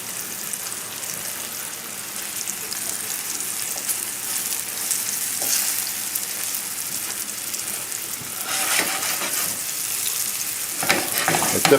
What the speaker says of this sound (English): We'll saute the vegetables, finish everything up, and then place the fish back in there